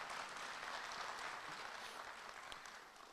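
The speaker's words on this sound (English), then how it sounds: "let's give another round of applause for your student leadership" Applause from an audience at a university postgraduate welcome event, a steady wash of clapping that fades a little at the close, heard faintly and at a distance.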